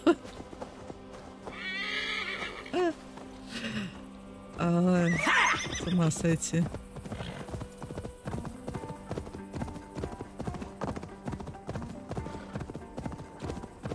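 A horse in Assassin's Creed Valhalla neighs loudly and gallops, hooves pounding in fast repeated clip-clops near the listener, with a voice breaking in briefly.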